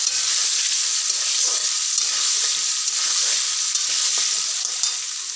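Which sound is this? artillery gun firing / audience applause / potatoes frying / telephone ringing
potatoes frying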